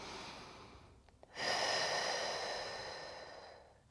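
A slow, deep breath during a supine knee-pull stretch in a strength workout: a sharp intake then a long, steady, airy exhale lasting a few seconds, close and fairly loud, with no talking.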